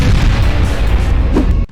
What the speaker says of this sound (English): And now, let's showcase your laser cannon shooting